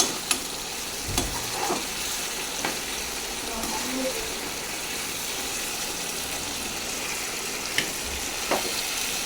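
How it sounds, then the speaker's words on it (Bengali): Chicken fries in curry masala with a constant close sizzle, and a spoon stirs and scrapes the pan in occasional sharp knocks and scrapes. "চলো এবার ভালো করে মশলাটাকে দিয়ে চিকেনটাকে কষিয়ে নিচ্ছি"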